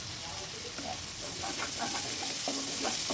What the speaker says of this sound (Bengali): ঢাকনা তুলে এখন নেড়ে চেড়ে দিয়ে দেব হলো